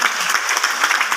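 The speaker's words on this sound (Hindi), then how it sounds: "एक बार ताली बजा सकते हैं आप?" An audience at an RCM business event claps together, a dense, bright burst of applause that stays loud and even for the whole brief moment, with no voices.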